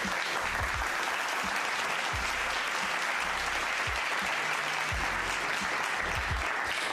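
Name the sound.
people clapping, a soul clap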